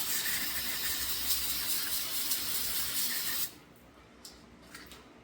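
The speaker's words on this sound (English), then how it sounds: "All I wanted was a can of brake clean." An aerosol can of brake cleaner sprays in one long, loud, steady hiss in a garage during work on a 1970 Plymouth Satellite's engine, stopping abruptly and followed by a few faint clicks and taps.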